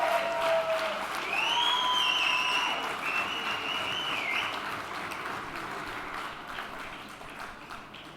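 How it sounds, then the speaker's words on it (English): Audience at the Asian Awards ceremony gives a long, full round of applause with a few high cheering whistles, loud at first and then gradually fading over several seconds. "round of applause"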